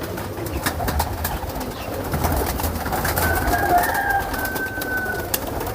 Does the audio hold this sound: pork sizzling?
no